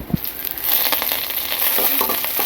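Ingredients for lemon egg rice sizzle and pop in a hot pan, with a dense crackling hiss and scattered sharp pops close up, and no talking.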